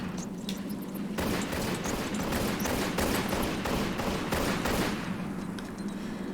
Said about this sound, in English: we'll have some more bats, so I'll just grab my pistols